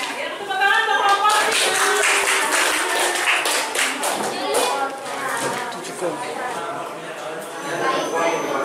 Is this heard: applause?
yes